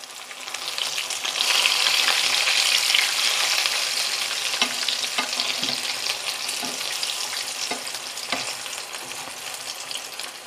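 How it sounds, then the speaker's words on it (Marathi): Pomfret fish frying in a pan, a loud, dense, continuous sizzle with a few soft clinks and taps, close and steady without any talk. "आता एका साईडनी साधारण 2 ते 3 मिनिटं मी फिश फ्राय होऊन देणार आहे."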